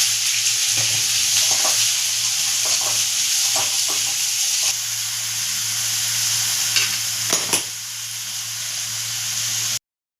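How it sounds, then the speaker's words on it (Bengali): Sliced onions fry in oil with a little salt and spices for an egg curry, giving a steady close sizzle with scattered scrapes and knocks of stirring that rise and fall before cutting off abruptly. "অল্প পরিমাণে নুন দিয়ে আমি পেঁয়াজটাকে ভেজে নেব।"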